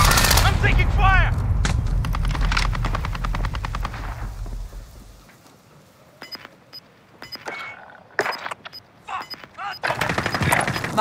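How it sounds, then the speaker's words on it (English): Dense automatic gunfire in Call of Duty Warzone, loud rapid bursts that fade into sparse scattered shots and clicks before more heavy firing, with game voice callouts over it. "I'm taking fire!"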